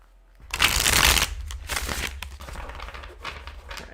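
A deck of tarot cards is riffled and shuffled up close, one loud flurry of snapping cards followed by quieter repeated shuffles.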